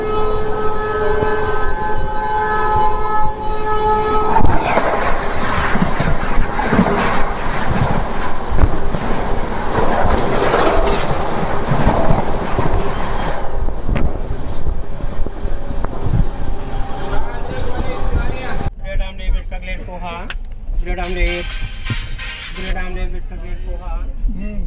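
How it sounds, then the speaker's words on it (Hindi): A passenger express train crossing alongside a moving Indian superfast express, opening with a long tonal horn blast, then a sustained loud rumbling roar with heavy wind buffeting, and ending in rattling carriage clatter. "तो अभी हमारी क्रॉसिंग होगी अमृतसर शियाला जालियांवाला बाग एक्सप्रेस के साथ।"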